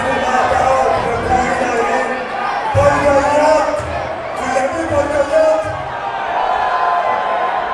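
A wrestling show crowd in Saguenay-Lac-Saint-Jean fills a hall with a dense, loud roar of voices, rising in swells of jeering and shouting, while a commentator talks over it.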